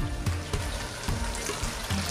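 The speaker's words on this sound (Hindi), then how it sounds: "मैं इसमें डाल रही हूँ तकरीबन 1/2 कप पानी।" About half a cup of water poured into a chicken curry simmering in a pan: a soft, steady splashing and trickle over quiet sizzling, with low thumps recurring.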